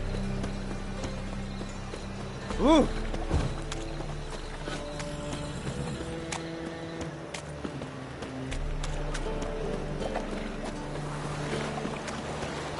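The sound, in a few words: horse hooves galloping in video game The Witcher 3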